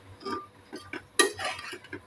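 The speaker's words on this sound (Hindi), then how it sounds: "इनको मिक्स करूंगी, आलू भूनूंगी और पालक भुनेगी" Potatoes and spinach being stirred in a pan, with a spoon scraping and clinking against the metal in several short strokes and one sharper knock, close and moderately loud, with no talking.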